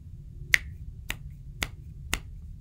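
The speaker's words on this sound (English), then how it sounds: "snap my fingers" Four crisp finger snaps at an even, unhurried pace, sharp and close against a faint low hum, with nothing else heard.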